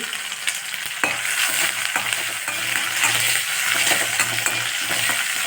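Mustard seeds, urad dal, green chili and chopped ginger sizzle steadily in hot oil in a pan, with faint crackles and occasional soft scrapes from stirring, close and continuous.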